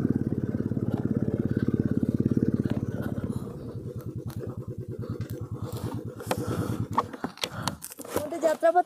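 A motorcycle climbing a high mountain road toward Bumla Pass in Arunachal Pradesh, its engine giving a steady close throb that turns rougher and more uneven toward the end as wind and jolts add clatter.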